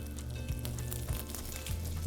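Shallots and broccoli fry in butter in a pan, giving a steady, close crackling sizzle that runs the whole time with low rumbling underneath and no voices.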